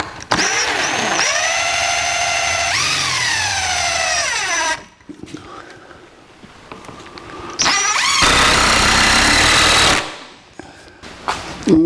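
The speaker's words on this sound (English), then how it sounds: "Here we are, gluing and screwing the legs together." A power drill drives screws into the glued wooden legs of a mobile A-frame gantry crane, sounding in two loud sustained whirring bursts with rising and falling pitch, separated by a quieter stretch of shop handling noise.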